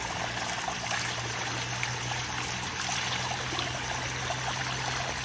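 Water pouring from a roadside pipe in the mountains of Uttarakhand, a steady close trickle and splash with a constant low hum underneath, unbroken throughout.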